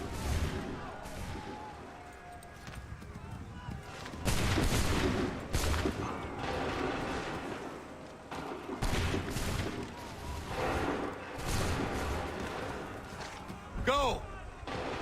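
Musket volleys in Assassin's Creed 3, several loud massed discharges spread through the clip, each a booming crack with ringing tails, amid battlefield din and shouted commands.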